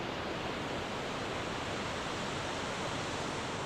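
Roaring waterfall on a winter trail in Iceland, a steady, dense broadband rush of falling water that holds constant and loud throughout with no voices.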